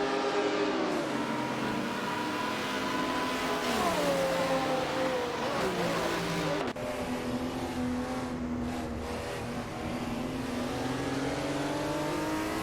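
Race cars in a video game race, a Porsche among them, whine past with engines rising and falling in pitch through gear shifts, a continuous layered engine drone with several cars audible.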